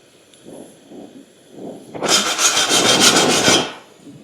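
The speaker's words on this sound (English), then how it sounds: "I'll just brush it away." A wire brush scrubs brazing residue from torn mounting holes in a steel bumper on an International Harvester Scout, a loud rasping burst of about a second and a half after softer scratching strokes.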